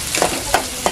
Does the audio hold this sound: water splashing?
no